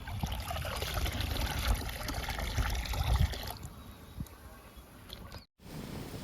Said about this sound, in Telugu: ఈరోజు నేను ఈ బియ్యం పిండి లిక్విడ్ని ఇండోర్ ప్లాంట్స్కి ఇస్తున్నాను